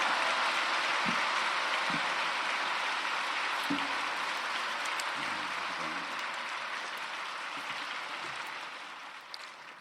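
A church congregation welcoming a pastor with dense, sustained applause that holds steady for several seconds, then gradually thins and fades toward the end.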